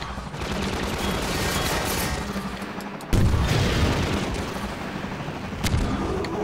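Sustained bursts of gunfire in the Half-Life 2 video game, near and loud, rattling continuously with a sharp, heavier blast around the middle and another hit shortly before the end.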